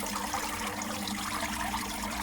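Pump-fed water from a garden IBC koi pond setup splashes and trickles back into the pond in a steady, continuous patter.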